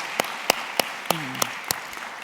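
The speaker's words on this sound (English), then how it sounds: "So I think a good round of applause for everyone involved, please." A few slow, evenly spaced hand claps after a call for applause at a talk. About six crisp, separate claps land roughly a third of a second apart, with a brief voice sound partway through.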